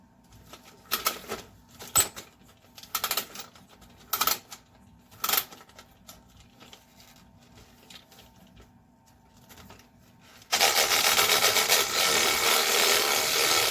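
A vintage 1980s He-Man Monstroid toy being wound up, with clicking, ratcheting bursts and knocks of hard plastic close by, then an abrupt loud steady whirring buzz of the mechanism running.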